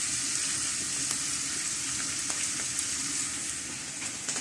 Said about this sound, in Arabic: درت الزيت باش غادي نقلي كلشي فيها هذا الشيء